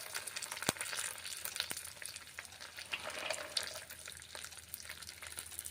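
Peanuts fry in hot oil with cumin seeds in a home kitchen, giving a steady, close crackling sizzle with occasional sharp pops and spoon stirring throughout.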